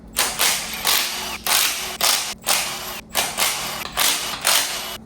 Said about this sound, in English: Now we're gonna take off the valley cover.